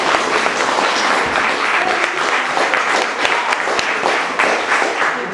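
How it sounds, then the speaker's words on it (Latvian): Loud, dense applause from a school audience at a tenth-anniversary competition event in Daugavpils, steady throughout with no speech over it. "Skaļi aplausi!"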